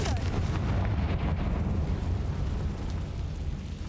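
Confringo fire spell blasting in the video game Hogwarts Legacy, a dense, loud roaring explosion that fills the whole stretch and fades slightly toward the end.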